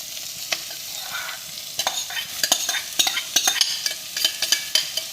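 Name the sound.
chopped capsicum stir-fried with crispy onions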